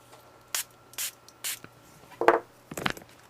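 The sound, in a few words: spraying water from a spray bottle to loosen glue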